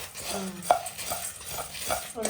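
Coriander seeds dry-roasting slowly in a pan over low heat, with soft scraping and rattling as a utensil stirs them, light clinks against the pan and a faint crackle underneath.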